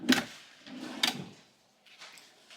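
A hotel room end table drawer slides and knocks shut in two short wooden clunks about a second apart, followed by faint rustling, close by and with no talking.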